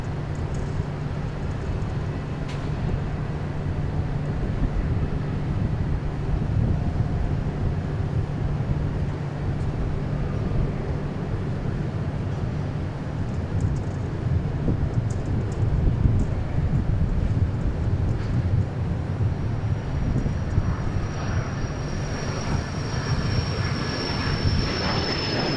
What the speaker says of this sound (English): Cessna CJ3 going to Santa Fe,